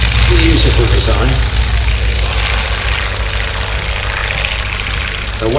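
A WACO UPF-7 biplane at the Little Gransden Air and Car Show runs its radial engine and propeller, a loud, steady droning roar that fills the whole stretch with no break.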